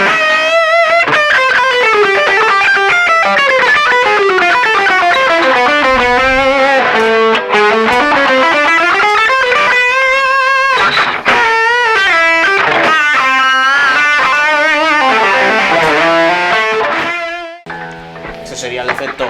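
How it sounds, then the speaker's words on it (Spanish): An electric guitar runs through a TC Electronic Nova System multi-effects unit on a custom patch called The Hunt, playing a long, loud, continuous melodic line with effected, shifting tones and a brief break near the end. "Y luego me hice un efecto al que llamé The Hunt."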